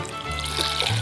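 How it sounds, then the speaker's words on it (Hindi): Water pouring into a pot of kadhi pakora in a home kitchen, a short, steady close-up trickle and splash lasting about a second. "थोड़ा सा पानी इसके अंदर और ऐड करना है"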